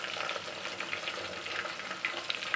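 Eggplant pieces for vangi bath frying in oil as sliced onions go in, a steady close sizzle with a few light spatters and clinks, no voices.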